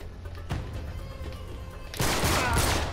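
Gunfire in the video game Uncharted 3, ending in a headshot: a steady crackle of game action, then a louder, denser burst of shots in the final second.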